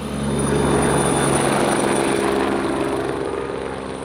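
A helicopter flying during a border guard medical evacuation exercise for carrying casualties to a hospital, a loud, continuous rotor and engine drone that swells slightly and then fades a little toward the end, with no voices.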